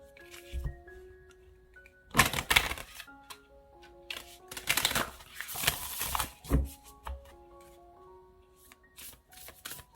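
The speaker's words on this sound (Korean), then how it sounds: "제가 조언의 카드를 좀 뽑아보도록 할게요." Tarot cards shuffled and drawn nearby, with a quick riffling flutter in two strong bursts and softer card slides and taps between them, against a faint background tone.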